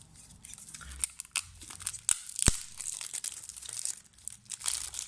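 A Yu-Gi-Oh card pack is torn open, giving close, crisp crinkling and ripping of the foil wrapper in short uneven bursts, with one sharp tear standing out, and no talking over it.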